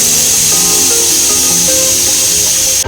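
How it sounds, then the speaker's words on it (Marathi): A pressure cooker whistles steadily, a loud continuous hissing jet of steam from a cooker of yakhni pulao on a medium-high gas flame, sustained for nearly three seconds before cutting off abruptly. "तर इथे ह्याच्यात 2 शिट्ट्या झालेल्या आहेत"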